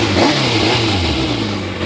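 A 2014 Kawasaki Ninja ZX6R 636 motorcycle engine revving in a parking lot, a loud, close, sustained roar that swells briefly and holds steady without any talk.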